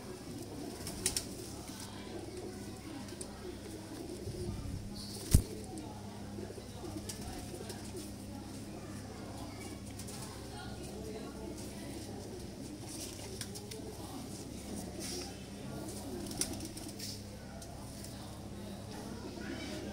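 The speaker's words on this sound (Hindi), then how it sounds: "ये ओरिजिनल कलर है साधना कबूतरों का जो मियाँ नज़ीर साहब वाली ब्लड लाइन से" Sadhna pigeons from a breeder pair of the Mian Nazeer bloodline coo softly and low, a faint, steady murmur that runs through the whole stretch with a few brief knocks.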